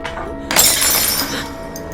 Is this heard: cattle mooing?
no